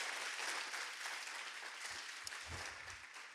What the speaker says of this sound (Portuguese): dá uma grande salva de palmas para Jesus